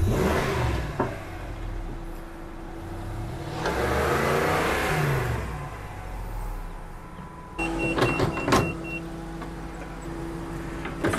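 Old log skidder engine, long buried in weeds, revving as fuel is fed, rising and falling in long loud surges with a steady idle between and sharp knocks and clatter near the end.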